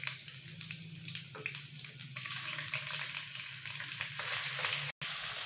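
Garlic and ginger paste frying in a pan, a steady close sizzle with bright crackling throughout, briefly cut by a short gap near the end.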